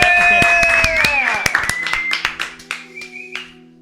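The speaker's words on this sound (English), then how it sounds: "Quick round of applause for Manny and his wife on the birth of their child" A quick round of clapping from a small group on a podcast set, sparse and uneven hand claps that thin out over a few seconds while people keep talking and laughing.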